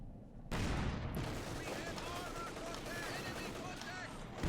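Battle in Company of Heroes 2 with sustained machine-gun fire from a DShK heavy machine gun and sharp scout sniper shots, dense and loud, continuous over a low rumbling battlefield din.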